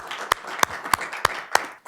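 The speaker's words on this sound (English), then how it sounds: "How about a round of applause?" During a school board meeting, a single person claps slowly and evenly, six crisp hand claps close to the microphone over a soft background of a few other hands.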